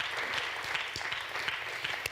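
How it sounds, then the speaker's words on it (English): Audience applause at a university assembly, a full, even patter of many hands clapping at close range, sustained throughout with no talk over it. "everyone deserves to give themselves a round of applause for that achievement"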